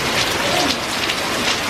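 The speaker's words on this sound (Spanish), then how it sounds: "Está lloviendo un montón." Heavy tropical downpour in Thailand, a dense, loud, steady hiss of rain pounding on surfaces, close and continuous with no voices.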